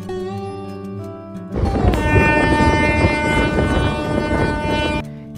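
A train rolls in near Madhpur station in Medinipur, West Bengal: a quiet tonal hum gives way to a loud, dense rumble with sustained horn-like tones that holds steady for several seconds, then cuts back sharply.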